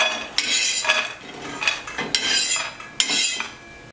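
Fried mung dal sandge being lifted onto a plate, a series of rattling, crisp clatters and utensil-on-dish scrapes in uneven bursts, close and fairly loud, with no talk.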